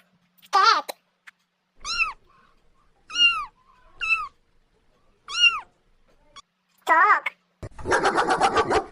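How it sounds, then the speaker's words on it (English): A domestic cat meows repeatedly, six short rising-and-falling calls spaced about a second apart, ending in a longer strained, growling yowl; close and clear with nothing else around it. "Cat."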